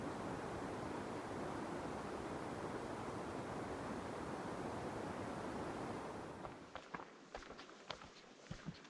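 Steady broadband rush of a forest creek in the North Cascades along a hiking trail, continuous and fairly loud, thinning out near the end as crunchy footsteps on the trail come to the fore.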